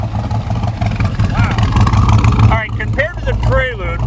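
A 1966 Chevrolet Corvette big-block engine revs and roars loudly with a deep rumble, with a voice talking partway through as the engine note drops and settles.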